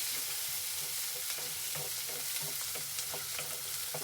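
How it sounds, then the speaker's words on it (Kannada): Green chillies and onions frying in a pan for a Karnataka rava uppittu, a steady hiss of sizzling oil with soft stirring scrapes and ticks, continuous and moderately quiet throughout. "ಹಸಿಮೆಣಸಿನ್ಕಾಯಿ, ಈರುಳ್ಳಿ ಹಾಕ್ತಾಯಿದ್ದೀನಿ."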